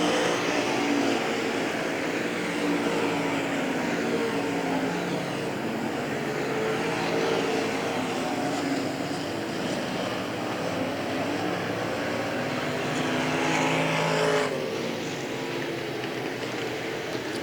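Semi-late model race cars racing at Hagerstown Speedway: a continuous, loud roar of engines from a pack of cars, steady throughout with a slight shift in tone near the end.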